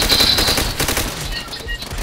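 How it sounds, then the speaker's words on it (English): A burst of rapid automatic gunfire in the video game Call of Duty, loud and close at first, then thinning into scattered shots as it fades. Faint talk sits underneath. "Stop shooting our own teammate."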